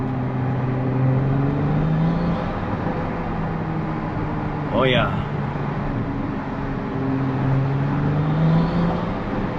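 A 2025 Ferrari 296 GTB engine revs up and down after a manual-mode downshift with a low droning tone while a person speaks briefly over it.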